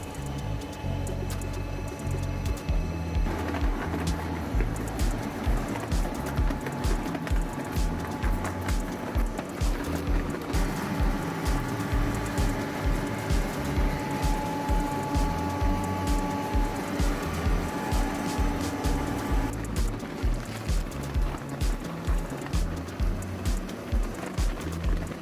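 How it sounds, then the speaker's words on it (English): A pellet maker machine pressing wood and sawdust into pellets runs with a steady rhythmic thumping cycle over a continuous mechanical hum, loud and close, with no talk. "This machine produces pellets from wood and sawdust."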